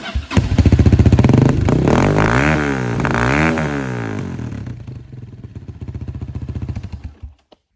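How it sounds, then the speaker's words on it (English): A Honda CRF230F dirt bike engine revs repeatedly up and down close by, exhaust fitted with silencer tip and spark arrestor removed, loud and rasping, then settles to a rough idle before cutting off. "this is the exhaust with the silencer tip in and the spark arrestor out"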